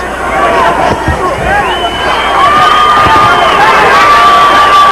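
Boxing arena crowd cheering loudly during a fight, a dense roar of shouts and whistles egging on the fighter, rising slightly in intensity, with a commentator's voice mixed in.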